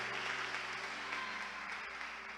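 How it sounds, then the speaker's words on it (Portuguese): Steady applause from a church congregation during a worship service, a dense wash of clapping that holds evenly throughout at moderate distance. "Se for para aplaudir a Jesus, aplaude com vontade"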